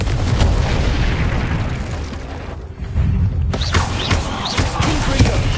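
Confringo fire spell blasts in the Hogwarts Legacy video game, a dense roaring burst of explosive rumble that briefly drops away, then returns with sharp crackling bursts and loud booming impacts.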